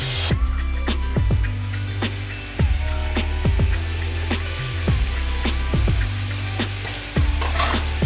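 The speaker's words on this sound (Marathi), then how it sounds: "आपलं तेल गरम झालेलं आहे तर आता आपण तेलामध्ये करंज्या सोडूया" Karanji pastries fry in hot oil, a steady close sizzle and bubbling running throughout with repeated crackling pops and occasional louder surges.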